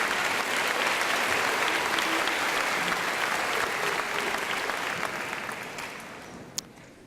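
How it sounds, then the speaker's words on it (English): A large audience at a spring 2018 university commencement ceremony claps in sustained, dense applause that fades slightly toward the end. "Please join me in a round of applause for our bachelor degree students within the School of Liberal Arts"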